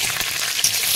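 Dry red chillies, bay leaves and five-spice seeds sizzling in a little hot oil in a kadai, a dense, steady, close crackling hiss with no pause.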